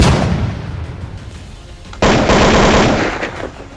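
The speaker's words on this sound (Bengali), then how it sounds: "ভোর হলেই মেরঠে সেনাঘাঁটিতে শুরু হলো গুলির শব্দ" Sustained gunfire sound effect evoking a dawn battle at the Meerut army cantonment: a loud rattling barrage that suddenly intensifies into a sharper, denser burst of rapid shots midway, close and continuous.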